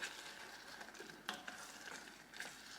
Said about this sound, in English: And a little bit of liquid smoke. Have to be careful this time. Just a little bit. And give it a good stir.